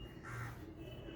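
A crow caws in a short, moderately faint call, a single harsh cry standing alone in a quiet outdoor setting.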